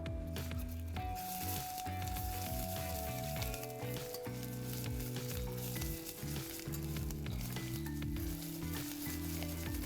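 Miso going into a hot pan, with a steady broadband sizzle and bubbling running the whole time under strong tonal music, close and fairly loud.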